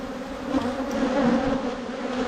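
Honeybees drone in a steady, close buzz at an open hive while the brood frames are being inspected during the first honey harvest; the hum stays continuous and fairly loud throughout, with no talk.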